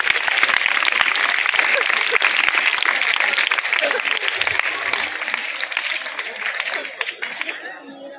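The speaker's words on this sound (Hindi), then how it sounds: "तमाम बच्चे तालियों से इसका स्वागत करें।" Children at a Republic Day prize distribution event clap together loudly, a dense wash of applause that fades slightly toward the end, with faint chatter mixed in.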